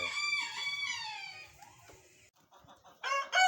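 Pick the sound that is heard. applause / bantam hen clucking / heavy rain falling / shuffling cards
bantam hen clucking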